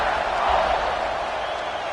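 Football stadium crowd noise before kickoff at an Old Dominion game, a broad steady roar of many voices, loud and continuous for a couple of seconds.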